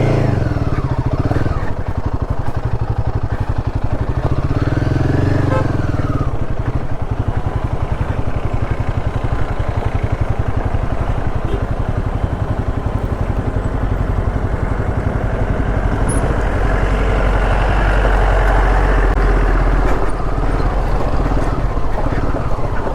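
A Royal Enfield Himalayan 450 motorcycle rides off-road on the way up Mandalpatti Peak, its engine droning loud and continuous with wind rush for the whole stretch, with no talking.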